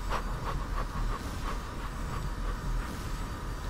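Train passing in the video game GTA 5, a steady rumbling roll with rhythmic clicking and a faint hiss running continuously at moderate volume.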